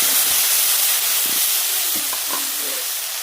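Spice paste for a rui fish curry hits hot oil in a pan and sizzles loudly and continuously, a dense close hiss with faint clinks of stirring underneath.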